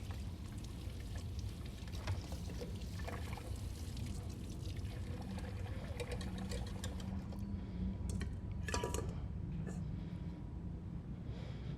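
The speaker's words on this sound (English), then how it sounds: "I'm going to just rinse the whisk off really quick" Kitchen tap water runs steadily while a whisk is rinsed off after making pavlova, a broad continuous splashing wash with a few clinks of the whisk against the sink near the end.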